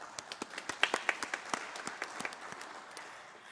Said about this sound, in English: Please give Milagre a hand of applause